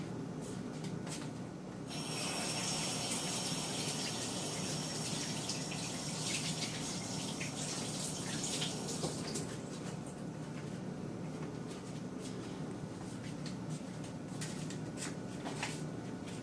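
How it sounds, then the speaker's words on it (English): Tap water runs steadily from a kitchen faucet into a sink during handwashing while making chicken pot pie pockets, with soft rubbing of hands under the constant stream and no voices. "Let me wash my hands real quick."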